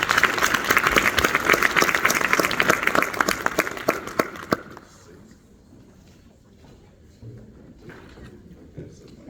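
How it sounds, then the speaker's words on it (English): An audience applauds at a graduation ceremony and dinner, with dense, loud clapping for about four and a half seconds before it stops abruptly, leaving a quieter room. "Please give her a round of applause."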